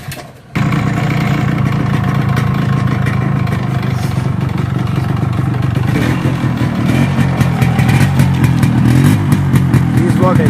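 A Yamaha RX 135 five-speed motorcycle is kickstarted and settles into a loud, close, steady two-stroke running note with rattly clatter throughout.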